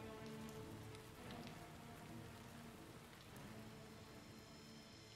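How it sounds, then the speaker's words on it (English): Rain falling in the video game Hyrule Warriors, a dense, even patter of drops hitting surfaces that runs continuously at a steady level with no voices. "Ah, rain."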